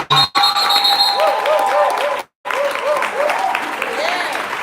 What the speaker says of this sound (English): Will y'all clap and thank God one more time for them?